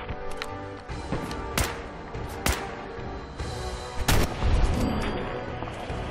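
Rifle gunfire in the video game Fallout 4, with several sharp, loud shots spaced a second or two apart over a busy game backdrop of music and ambience.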